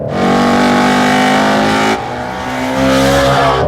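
A Ford Mustang Shelby GT350R at full throttle, a loud close engine roar climbing steadily in pitch, breaking briefly at a gear change and then rising again.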